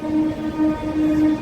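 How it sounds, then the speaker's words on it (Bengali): A train pulls away from Ghatshila station toward Jamshedpur, giving a steady rolling rumble with droning tonal hum that swells and eases in short waves. "ট্রেন চলেছে জামশেদপুরের দিকে।"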